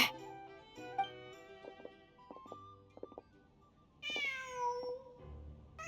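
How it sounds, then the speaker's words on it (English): A cat meows repeatedly in a video game set in Nod-Krai, with several short calls spaced out, then a longer, louder rising meow near the end over a faint game backdrop. "Just a cat."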